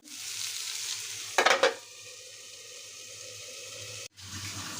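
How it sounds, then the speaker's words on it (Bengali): Potato pieces for aloo fry sizzle in an oily pan with a steady hiss. A short burst of stirring and scraping cuts through midway, and the frying continues faintly after a brief break, with no voices. "আমার এই মজাদার আলু ফ্রাইটা অনেক টেস্টি হবে, মজাদার হবে।"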